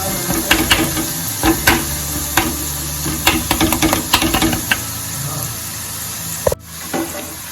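Garlic chutney being stirred into a dahi tikhari yogurt mixture, with a series of close, irregular scraping and clacking strokes of a spoon against a pan, followed by quieter mixing.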